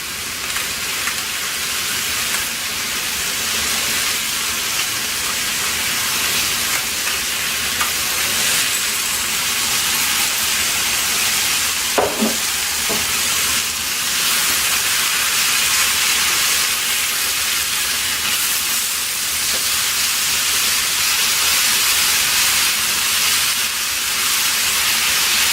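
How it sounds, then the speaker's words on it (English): Steady broadband sizzle of vegetables lightly frying in a pan with salt and black pepper, a continuous hissing crackle with a brief clatter near the middle. "We're just slightly frying them so that they catch some taste."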